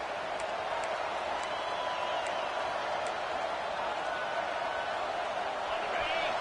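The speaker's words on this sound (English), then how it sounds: "Decibels rising as the crowd gets behind this defense on 3rd down." Football stadium crowd roaring on a third down, a dense sustained wall of cheering and noise that stays loud throughout while a commentator talks over it.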